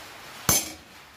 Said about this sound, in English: we'll just do a little chisel mark right there